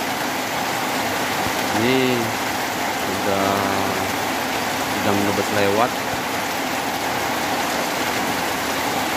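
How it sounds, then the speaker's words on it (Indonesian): Heavy rain falls in a steady, dense hiss throughout, while someone speaks briefly in a few short bursts over it. "Turun hujan."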